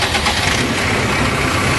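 A tractor engine runs steadily, a loud, close, continuous rumble with a dense low drone and no pauses, heard alone.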